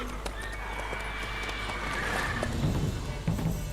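Roach, Geralt's horse in The Witcher 3, gives a short neigh while hooves clip-clop at a quick gait, set against quiet game ambience.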